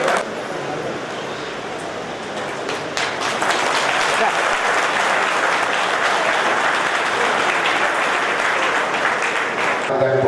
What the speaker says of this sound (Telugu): మరోసారి గట్టిగా చప్పట్లతో అభినందిస్తున్నాను సార్